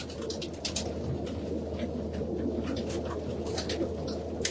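Racing pigeon VITA King 11902 cooing close by, soft repeated low coos over a steady background hum, with other birds faintly calling in the distance.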